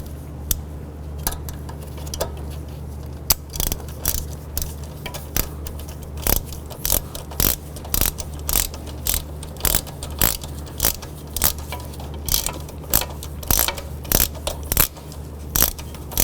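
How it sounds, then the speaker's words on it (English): A ratchet snugs a 10mm nut onto the belt tensioner of a 2007-2011 Honda Civic. It gives a long run of quick, regular metallic clicks that are loud and close, over a low steady hum, with no talking. "I'm going to go ahead and just snug that down"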